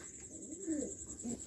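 Giribaz pigeons coo softly in a pigeon house, a low throaty call rising twice over a faint steady background hum, with no talking.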